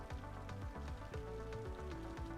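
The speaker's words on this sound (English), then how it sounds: "Ooh, some rain ASMR." Steady patter of rain in Cities: Skylines, a soft even hiss of drops, with repeating tonal game music over it.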